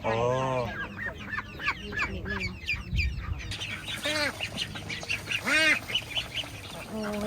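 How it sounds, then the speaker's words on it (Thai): A cluster of chickens clucks and squawks nonstop close by, with overlapping calls and faint voices underneath. "อันนี้ไก่เหรอ"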